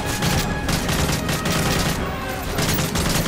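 Rapid gunfire in Call of Duty Modern Warfare 3 combat, loud sustained bursts of automatic shots with pulsing rhythm, heavy and close throughout.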